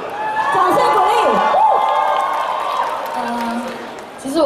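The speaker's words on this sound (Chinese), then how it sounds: "掌声鼓励" A crowd applauds and cheers at an autograph-signing concert in Tsuen Wan Plaza, a mall venue. The clapping and whoops run loud and continuous, with a voice and some tonal sound over them, easing briefly near the end.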